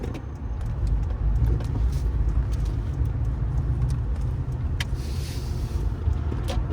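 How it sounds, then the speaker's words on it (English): A Subaru car, its engine recently frozen into a block of ice, pulls out into traffic with a steady low engine rumble, fairly loud and close, with the AC running and no talk. "Gonna pull out into traffic."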